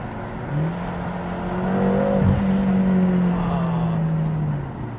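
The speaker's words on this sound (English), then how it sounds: "And the burble you get as soon as you let go of the throttle" A BMW M6 engine revs up through a sustained, rising drone, then eases off the throttle with a low rumbling exhaust burble, close and loud.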